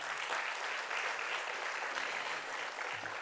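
An audience at an academic event claps in steady, continuous applause, moderately close and even throughout, with no voices.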